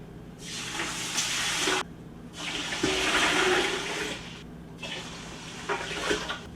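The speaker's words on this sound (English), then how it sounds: "So I've got 4 quarts of water here I'm going to pour in." About a gallon of water is poured into a pot in three long splashing pours, loud and near, with short pauses between them.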